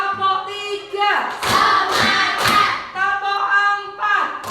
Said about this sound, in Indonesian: Yuk tepuk 1, tepuk 2, tepuk 3